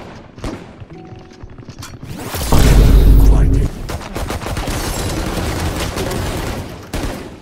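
Gunfire in the video game Valorant, with scattered shots building to one loud, dense burst of firing near the middle, followed by lighter game sounds.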